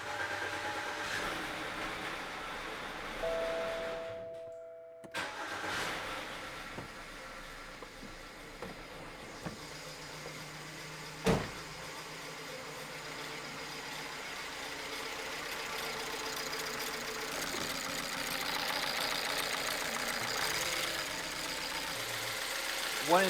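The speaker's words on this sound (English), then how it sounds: "Okay, let's see if it fires up or not." A BMW engine with four newly replaced injectors cranks and catches after a brief pause, then settles into a steady, rough idle running close by with an occasional clank.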